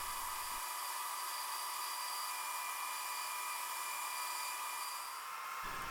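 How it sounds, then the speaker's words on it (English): Bandsaw cutting a lacewood lure blank, a steady bright high whine with broadband hiss that holds evenly for several seconds, close and fairly loud, with no talking. "I'm just going to cut it out with my bandsaw."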